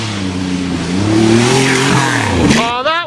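A car accelerates hard down a farm drag strip, its loud engine climbing steadily in pitch, then the revs drop off abruptly near the end as the driver backs out of the throttle, with people talking nearby.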